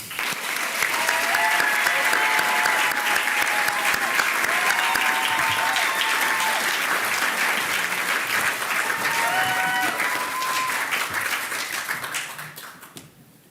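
Gala audience applauding an award recipient as he walks to the stage: loud, dense, sustained clapping from a large crowd that holds steady for about twelve seconds, then fades out.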